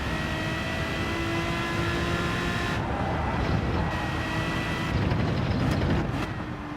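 A race car engine in a racing game roars under throttle, a loud sustained drone with shifting pitch and brief dips as the revs change, with no talking over it.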